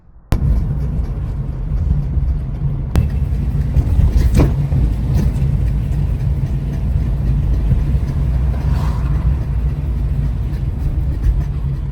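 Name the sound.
loud noise from a Honda Civic while driving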